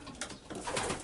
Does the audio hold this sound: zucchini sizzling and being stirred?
no